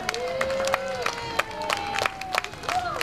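Applause from a neighbourhood association audience welcomes the treasurer, steady clapping with cheers and crowd voices filling the whole stretch.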